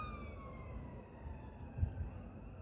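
An ambulance siren wails at a distance, its pitch sliding steadily downward over a low rumble of traffic.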